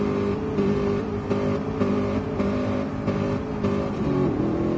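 Race car engine revving at a launch in a test night session, a loud sustained roar with rhythmic pulses as it builds, close and unbroken.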